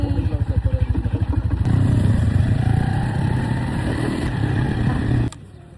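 Motorcycle taxi (habal-habal) engine idling and revving at a mountain campsite, a steady close rumble with pulsing beats, rising louder midway before cutting off near the end.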